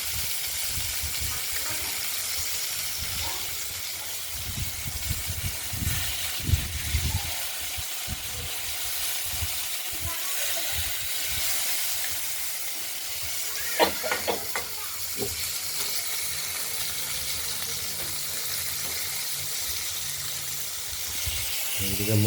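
Taro and tomato frying in a pan, giving a steady hissing sizzle through the whole stretch, with occasional clinks and stirring noises.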